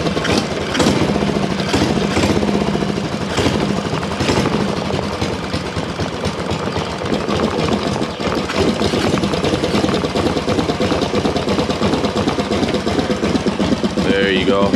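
A mini bike fitted with a torque converter starts up, its small engine then idling low and a little rough for the rest of the span, loud and close, with someone talking over it.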